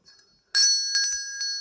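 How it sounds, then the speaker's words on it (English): Old country store bell ringing, a sudden bright metallic jingle after a near-silent start, followed by a few quick shaken rings with a lingering high tone, close and clear. "A lot of people love the old country store bell"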